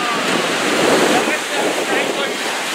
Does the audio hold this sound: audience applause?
no